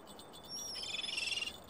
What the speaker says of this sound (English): That's a seagull, at least it's flapping its wings.